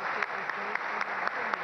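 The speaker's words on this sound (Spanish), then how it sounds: "Por favor, un aplauso para ellos" An audience at a Guatemalan presidential candidates' debate forum held by a business council applauds in a brief, steady burst of clapping, a little distant in the room.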